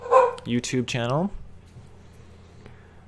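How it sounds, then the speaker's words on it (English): A dog barks a few quick yips in the background while someone talks close up, and a faint electrical hum lingers after the voice stops. "And you can hear my dog barking there."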